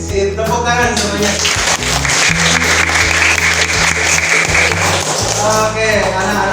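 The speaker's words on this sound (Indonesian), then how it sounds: "tepuk tangan semuanya" A class of sixth-grade children in a primary school maths lesson claps together in a dense, loud burst lasting several seconds, with an adult voice speaking before and after.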